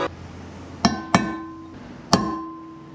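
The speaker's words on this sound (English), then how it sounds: "So now I'm gonna punch holes and then Dremel that out." Hammer driving a steel punch into a porting template on a Mazda RX-7 FC 13B rotary engine housing: four sharp ringing metallic strikes, irregularly spaced, each with a bright clinking decay.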